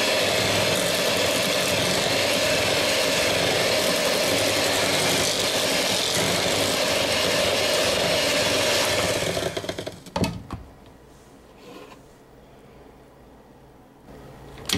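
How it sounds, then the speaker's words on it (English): An electric mixer whisks eggs into creamed sugar and butter, a loud steady motor whir that runs for about ten seconds, then stops abruptly with a clunk, leaving quiet room tone. "we're going to continue to whisk it as we do that"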